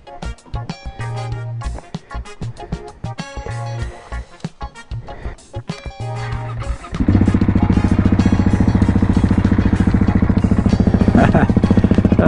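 A KTM 701 single-cylinder motorcycle is cold started: uneven cranking and sputtering blips at first, then the engine catches and settles into a loud, steady, rapid idle close by.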